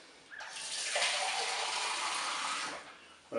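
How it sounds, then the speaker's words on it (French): Water pours steadily into a Cookeo electric pot holding aubergines, a close, continuous splashing gush of about three seconds that stops abruptly. "je vais ajouter l'eau."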